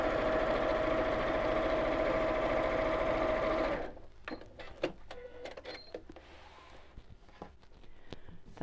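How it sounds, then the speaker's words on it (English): A sewing machine stitches fabric in a fast, steady whirring run for several seconds, then stops, leaving quiet handling clicks and small clatters. "And then carry on sewing."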